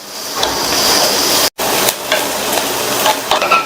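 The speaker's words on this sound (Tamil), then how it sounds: "ஒரு மீடியம் சைஸ் வெங்காயத்தை கட் பண்ணி சேர்த்துக்கலாம். இது கூட கொஞ்சமா கறிவேப்பிலை சேர்த்துட்டு வெங்காயத்தை 1 நிமிஷம் போல வதக்கிக்கணும்" Onion sautéing in hot oil with mustard seeds and curry leaves gives a loud, close, steady sizzle and crackle, with a few spoon scrapes and a brief dropout near the middle. No voices.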